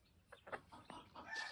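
Mother hens with mixed-breed chicks of different ages, giving soft, faint clucks and brief higher peeps that come in a loose, uneven string close by.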